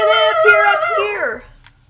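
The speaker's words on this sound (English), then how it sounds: "These are scary dogs." Video game dogs let out a loud, close howl with a rising, wavering pitch that slides downward and fades out after a second or so.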